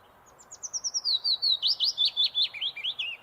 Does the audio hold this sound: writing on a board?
no